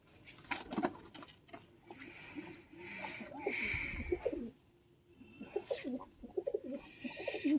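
Tournament pigeons coo in soft, low, repeated phrases at close range, joined by a few brief chirpy bird calls, with short gaps between bursts.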